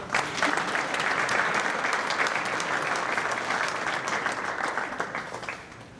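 Audience applause for award-winning career and technical education students at a school board awards ceremony, steady dense clapping from a crowd filling the room for about five seconds before thinning slightly at the end.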